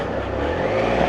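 A Victory motorcycle pulls away from a bike night gathering at a pub, its engine note rising steadily and close by, with no voices over it.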